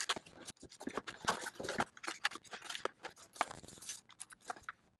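Packaging of a Fl•esports FL980 mechanical keyboard being opened: close crinkling, scraping and tearing of cardboard and plastic in irregular bursts, with brief pauses between them.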